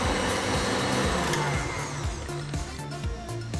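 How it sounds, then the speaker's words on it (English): A stand mixer whips Italian buttercream in a bowl with a steady, close motor whir, its pitch wavering and dipping slightly as it runs. "Now we're gonna return it to the mixer."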